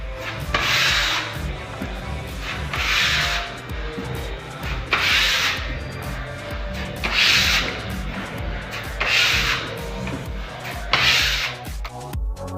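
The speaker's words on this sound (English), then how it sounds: "puttying holes in the wall" Putty knife spread over nail holes in a wall, a rhythmic scraping rasp in about six even strokes, close and steady with no talking.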